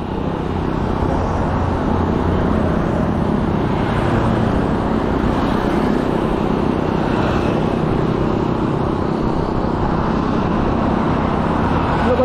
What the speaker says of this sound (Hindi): गाड़ी बहुत पास आ रही लेफ्ट साइड से